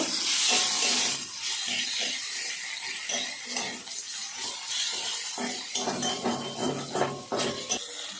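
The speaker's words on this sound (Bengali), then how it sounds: "টমেটোটা দিয়ে একটু নুন দেব অল্প করে, দিয়ে টমেটোটা কষিয়ে নেব" Tomato with salt sautés in a pan, giving a continuous steamy hiss broken by light metallic clinks and scrapes of a utensil, close by and moderately quiet.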